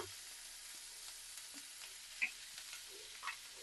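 Chopped garlic, onion and ginger frying in butter for a hot and sour paneer soup, a quiet steady sizzle with a few soft stirring knocks, no voices.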